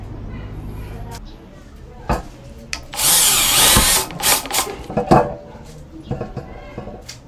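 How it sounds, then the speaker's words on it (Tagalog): Power drill driving a self-drilling screw into a 0.8 mm metal stud, with a sustained loud whirring burst in the middle and shorter bursts before and after, while a person talks. "Self-drilling ng hard screw."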